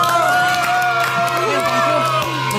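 A studio audience applauds and cheers for Chandra Liow, with steady clapping and scattered whoops under a sustained tone and some voices.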